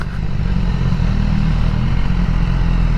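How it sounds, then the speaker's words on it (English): Motorcycles pass on a road in Yorkshire, their engines making a continuous mid-pitched rumble with some clatter, fairly loud and steady throughout, with no voices. "Yeah, so there's a few bikes out today."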